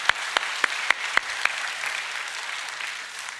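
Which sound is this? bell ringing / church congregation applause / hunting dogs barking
church congregation applause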